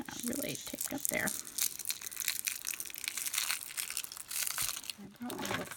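Shiny, taped-up plastic packaging is crinkled and pulled open by hand, a steady close run of crackling and crunching with a person's voice briefly mixed in.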